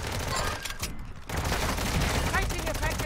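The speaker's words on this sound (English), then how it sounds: "Taking effective fire." Dense rattling gunfire from Call of Duty fills a short battlefield stretch with a brief lull in the middle, while a voice talks underneath.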